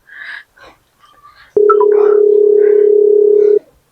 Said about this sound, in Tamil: வெறும் மச்சானுக்கு போன் அடிப்போம்.